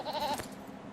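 A goat in the video game LOTRO gives one short, wavering bleat at close range, then fades into a quiet ambient background.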